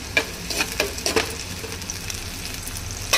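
Tomatoes fry in a pan for a tomato methi curry, a steady low sizzle broken by several sharp clinks and scrapes of stirring spaced through the clip.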